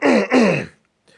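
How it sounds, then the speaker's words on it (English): A person clears their throat in two quick, rough bursts, close and loud, followed by near silence. "let me clear my throat"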